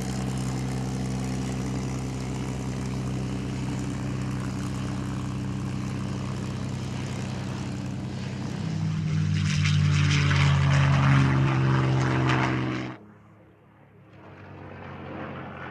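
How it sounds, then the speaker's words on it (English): P-51 Mustang propeller fighter flying at the 2012 Florennes International Airshow in Belgium, a loud droning engine and prop note that swells as it passes close, then drops away abruptly to a fainter distant hum. "This B-51 Mustang, piloted by Frederik Formezele"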